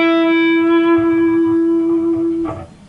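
An electric guitar plays a lead lick, holding a sustained, bright note with rich overtones, ringing steadily before a brief pick attack near the end.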